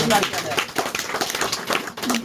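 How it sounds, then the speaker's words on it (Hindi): Church congregation clapping during a Hindi-language sermon on tongues, a dense burst of hand claps mixed with voices and shouts throughout, close and fairly loud. "हालेलुया, ताली बजाओ"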